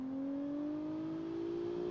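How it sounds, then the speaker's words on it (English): A 3-liter turbocharged V6 in a BeamNG driving game hums steadily at low volume, its tone rising slowly as the engine revs up, with no other sounds over it. "285 horsepower from a 3-liter turbocharged V6."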